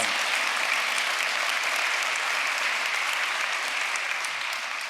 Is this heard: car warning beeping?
no